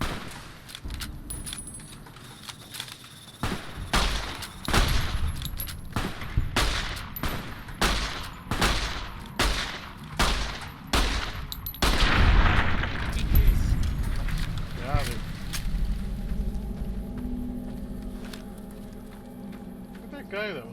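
Rapid rounds of gunfire in Fallout: New Vegas, a steady run of loud, closely spaced shots with a heavy blast near the middle, fading to quieter background hum, with a voice speaking over it.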